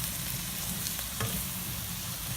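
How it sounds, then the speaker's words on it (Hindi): Vegetables with chili sauce and spices sizzle steadily in a frying pan while being lightly stirred for Singaporean rice, a constant close frying hiss with a few soft stirring scrapes. "तो हम हल्का सा स्टर करेंगे"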